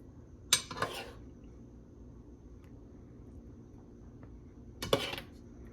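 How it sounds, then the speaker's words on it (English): A spoon scoops green chile from a pot onto a beef and refried bean burrito, giving two brief metallic clinks and scrapes several seconds apart over a low, steady background hum, with no talking. "Gotta get a few spoonfuls."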